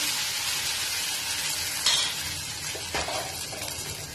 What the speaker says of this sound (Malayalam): ഒരു തവി മാവാണ് ഒഴിച്ചു കൊടുക്കുന്നത്.